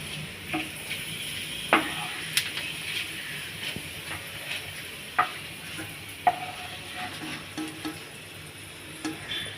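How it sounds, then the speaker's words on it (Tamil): Appalam papads frying one by one in oil over a low flame, a faint steady sizzle and hiss with scattered clicks and light taps from handling, close and without speech. "இப்போ முதல்ல இதை ஒன் பை ஒன்னாக போட்டு நம்ம இப்படி பொறிச்சு எடுத்துடுவோம் அப்பளாத்தை"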